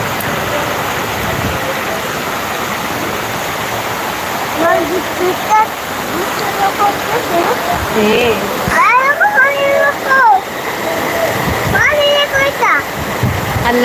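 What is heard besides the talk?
heavy rain pouring outside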